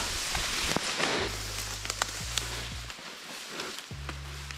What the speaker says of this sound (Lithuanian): Dar lietus lienė